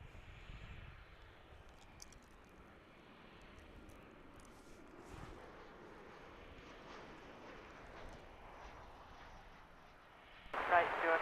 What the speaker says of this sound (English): we get a 737 landing on 18 right